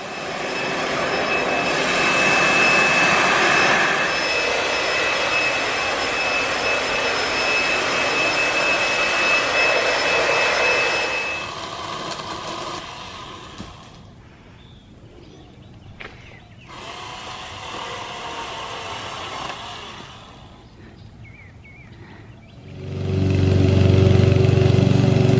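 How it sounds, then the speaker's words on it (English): A leaf blower runs with a loud, steady roaring whine for about eleven seconds, drops to a quieter idle, then surges back to full power near the end. "see this blower right here? The blower's been my friend."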